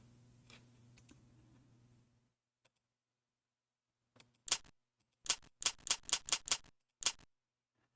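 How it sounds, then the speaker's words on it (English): Crisp clicks from a knob being turned in a Magic School Bus space video game, about seven short sharp ticks in an irregular run after a faint hum fades out, close and fairly quiet. "And that click is kind of not really that noisy."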